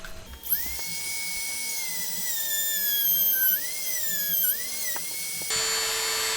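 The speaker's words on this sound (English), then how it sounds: "again, cut through it with a Dremel" A Dremel rotary tool cuts through the casing of a GoPro Hero 10 camera with a steady high-pitched whine that dips briefly under load, close up and continuous with no speech.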